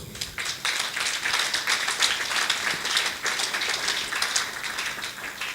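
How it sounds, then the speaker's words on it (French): A French-speaking audience at a prayer teaching session applauds, a dense, fairly loud patter of many hands clapping steadily for several seconds with no speech over it. "Nous applaudissons pour le Seigneur."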